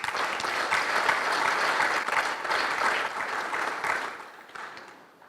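Audience applause at a government event, steady crowd clapping that holds for several seconds and then tapers off to a few scattered claps.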